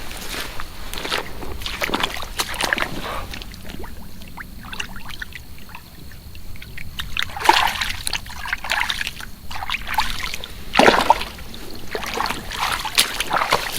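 Water splashes and trickles near the shore of a brook as a released brook trout swims off, with bright bursts of splashing and sloshing around a calm stretch, no talk.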